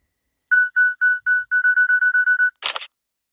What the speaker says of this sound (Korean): 사진이 바로 찍히는 것이 아니고 2초 후에 카메라 셔터가 작동되는 것을 알 수 있습니다.